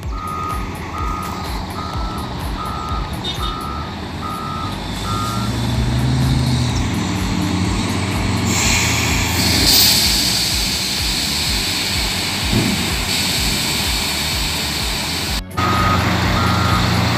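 A blue high-roof Mercedes truck at a mining site, with steady reversing beeps over a loud, continuous engine roar that swells midway, then the beeping returns at the end.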